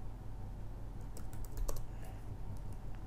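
Fast key presses on a computer keyboard while writing C# Windows Forms code: a brief run of light, close clicks over a steady low hum, with no voices.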